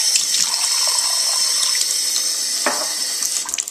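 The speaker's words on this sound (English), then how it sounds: "let me fill up a highly scientific beaker here with city water or county water" City or county tap water runs from a kitchen faucet into a beaker, a loud, continuous close-up splash and gurgle that changes slightly as the vessel fills.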